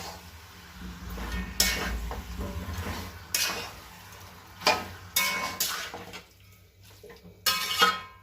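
A spoon stirs coconut chicken curry in a pot, clanking against the metal in irregular scrapes and knocks, close and fairly loud, with quiet pauses between strokes.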